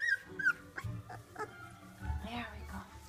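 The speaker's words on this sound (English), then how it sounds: "Come on, puppies, wake up." Puppies whimpering and yipping up close, a string of short high squeaks and whines, with a person talking softly over them.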